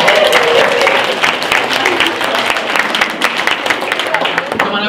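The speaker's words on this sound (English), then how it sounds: "Give her a round of applause." An audience gives a volunteer a round of applause at a school assembly, with loud, continuous clapping filling the room, close and sustained, fading slightly toward the end.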